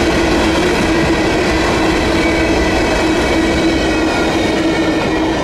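CSX train EO41 rolls past with a string of empty coal hoppers from Orlando's Stanton Power Plant, a loud, close, continuous rumble of wheels and rattling cars with a faint steady squeal through the whole stretch.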